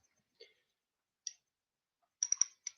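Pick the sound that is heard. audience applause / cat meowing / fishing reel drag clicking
fishing reel drag clicking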